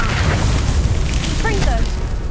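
A Confringo fire spell bursts in a Harry Potter video game as a dense, continuous roaring blast, with a short voiced cry partway through.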